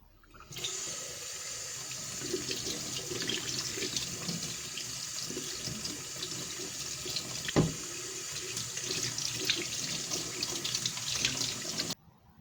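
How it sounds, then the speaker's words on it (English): Tap water runs steadily into a sink for several seconds while a sinus rinse bottle is washed, a constant splashing rush with a brief knock midway, then stops. "wash the bottle with warm water and dish soap"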